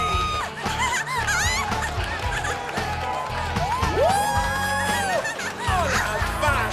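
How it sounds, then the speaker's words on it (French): A beauty pageant audience on stage cheers and whoops, with a crowd roar and a few whistle-like calls, while voices speak over the noise. "Faites du bruit pour toutes ces beautés qui sont sur scène pour vous et continuez d'applaudir s'il vous plaît"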